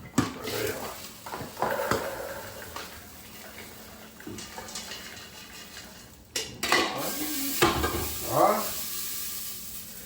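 Popcorn stirred in a metal pot on a home stove, with clattering scrapes and knocks of a utensil against the pan and a soft sizzle underneath, louder bursts toward the end.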